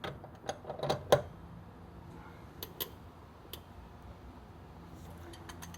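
Torque wrench clicking sharply while tightening a Boxster 986 front wheel bearing, a quick cluster of close metallic clicks followed by a few isolated ticks in a quiet workshop.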